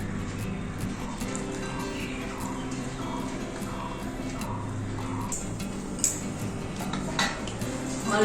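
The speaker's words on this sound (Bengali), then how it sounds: "অল্প অল্প জল দিয়ে মেখে নেব।" Flour dough being kneaded by hand with small additions of water in a bowl, made for luchi; soft steady squelching and pressing with occasional light clinks against the bowl, close and continuous, no talking.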